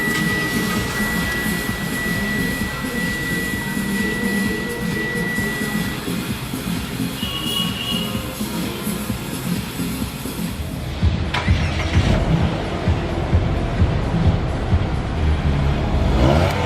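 2018 Mitsubishi Xpander engine idling smoothly just after startup, a steady low hum close by with a faint whine, shifting slightly near the end.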